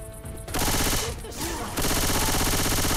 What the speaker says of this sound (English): Man, that takes a lot of shots.